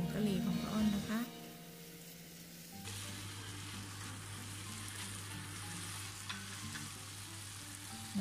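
Shrimp stir-fried with curry powder and spring onions in a pan, a soft steady sizzle with light stirring scrapes, someone speaking briefly at the start before the frying carries on alone.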